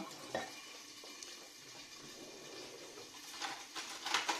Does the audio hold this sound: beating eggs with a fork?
yes